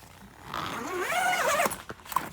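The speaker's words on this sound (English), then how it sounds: "The zipper zips from the top down" A zipper on an Oxyflow Mini hyperbaric chamber is drawn in one close, smooth pull lasting about a second, with a rising and falling rasp. A few soft fabric clicks follow.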